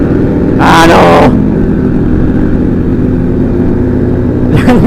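Motorcycles with racing exhausts on a Sunday-morning group ride in Makassar, a steady loud engine drone throughout with louder passing roars near the start and end.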